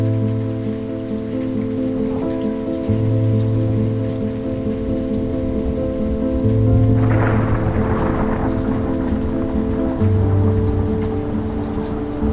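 Heavy thunderstorm with steady rain pouring on surfaces and a rolling thunder rumble building midway, continuous and fairly loud throughout with no talking.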